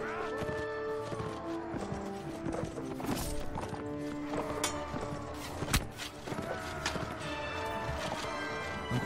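A horse gallops in battle in the game Mount & Blade Warband, with rapid hoofbeats over a dense, busy mix of combat clashes and crowd noise, steady throughout with one sharp crash.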